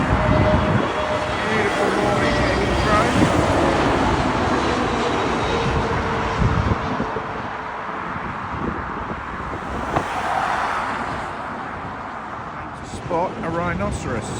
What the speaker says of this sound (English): British Airways coming in from Milan.